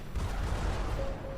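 Naval gunfire in the ICBM Escalation strategy game's Korean War scenario, sinking a resupply ship: a dense, rumbling wash of booming shots and blasts that runs steadily for about a second and a half.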